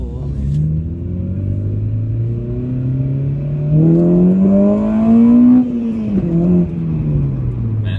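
A 2002-2004 Acura RSX Type-S with its VTEC engine accelerating hard, heard from inside: a loud, rising engine drone that climbs steadily in pitch, briefly lets off near the end, then falls as revs drop.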